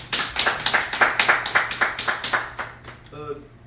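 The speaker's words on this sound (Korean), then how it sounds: "박수로 맞이해주시면 고맙겠습니다" A small audience at a memorial society meeting gives a short round of clapping, roughly a dozen fairly even, sharp claps that soften and fade out after about three seconds, with a voice briefly heard at the end.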